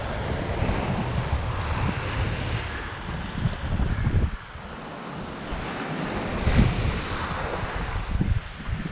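Incoming tide waves washing up a shellness naturist beach in November, a continuous loud roar of surf with swells, heavy wind buffeting close to the microphone.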